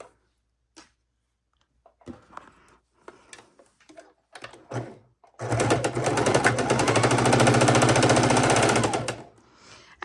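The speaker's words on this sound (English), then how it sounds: "we're sewing the other point. Sewing the other half." A sewing machine runs in one loud, steady burst of about four seconds, stitching fabric for a soup bowl cozy, after a stretch of scattered light clicks and handling noises.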